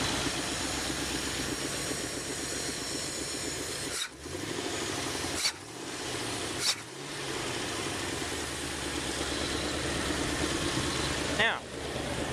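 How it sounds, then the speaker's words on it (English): A wood gas engine fitted with an Automixer runs steadily at a constant idle, a continuous broadband mechanical drone with a few brief knocks and dips. "it seems to be running just fine. The Automixer is doing its job. Wood gas is running"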